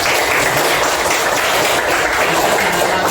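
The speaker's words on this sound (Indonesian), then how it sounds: "Tepuk tangan untuk kita semua." An audience applauding at a school coaching and academic supervision session: loud, dense, continuous clapping from a room full of people, steady throughout with no break and no talk.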